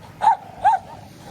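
A Pomeranian dog on a beach gives two short, separate barks or yips, moderately loud and close, with quiet background in between.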